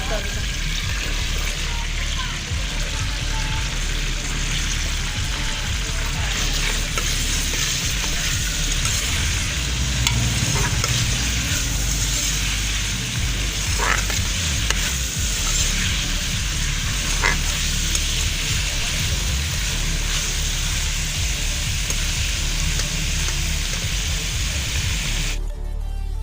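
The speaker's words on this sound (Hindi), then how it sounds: "अब इसमें मिर्च फ्राई कर दो।" Green chillies frying in hot oil in a home kitchen, a steady close sizzle and hiss running throughout with occasional stirring clinks and scrapes.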